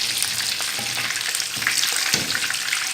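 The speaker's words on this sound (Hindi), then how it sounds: "इसी तरह से हमने ये सारे फ्राई करने हैं पॉप्स।" Fish pops fry in hot oil with a dense, loud crackling sizzle, broken by occasional bursts of bubbling and stirring.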